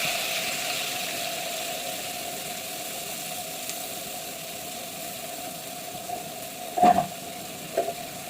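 Onion paste hits hot oil and sizzles with a steady, fairly quiet hiss under a constant low hum, broken near the end by a couple of brief clatters.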